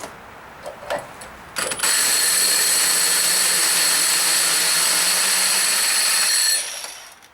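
Milwaukee M18 FUEL 2712 1-inch SDS-Plus rotary hammer boring with a 2 1/2 inch core bit and removable pilot bit: after a few clicks, a loud, close, steady hammering drone runs for several seconds, then winds down.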